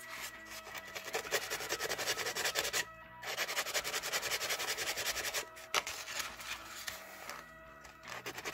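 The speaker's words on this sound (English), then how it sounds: "Pick off the burrs from the Dremel work." Burrs being scraped and picked off a plastic action figure after Dremel cutting, a close, continuous fine rasping and scratching that runs steadily with a couple of brief pauses.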